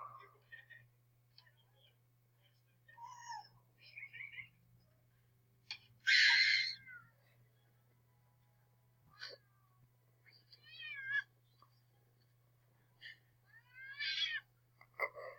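A cat meows several times in short, scattered calls, with people talking and reacting quietly between them over a steady low hum.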